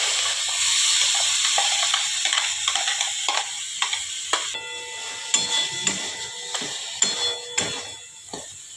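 A coconut and sugar paste fries in a hot wok, giving a steady close hiss and sizzle broken by soft ticks and scrapes of stirring, with no talking.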